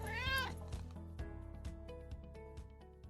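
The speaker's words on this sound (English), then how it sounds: "Stop looking at me weird, cat." A cat meows clearly and up close in a drawn-out, rising-then-falling call, followed by softer repeated vocal bursts against a quiet room.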